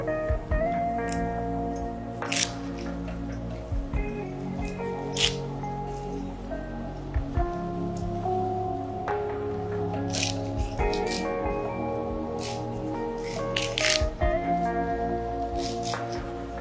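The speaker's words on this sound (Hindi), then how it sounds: "ये नीम की जो पत्ती, ये पत्तियां तोड़ के ये 5 मिनट के लिए इस पानी में डिप कर लेंगे।" Neem leaves torn by hand and dipped into tamarind water, with close, continuous wet squishing, dripping and leafy rustling punctuated by sharp little splashes.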